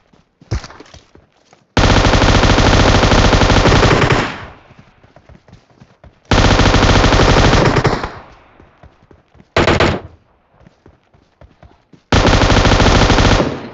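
Several loud bursts of rapid automatic gunfire from a video game, each lasting two to three seconds and separated by quieter gaps, with one short burst near the end, heard close and with no talking.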